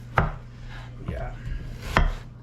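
A knife chops an onion on a board in a home kitchen, giving two sharp, close knocks with a softer scrape between them.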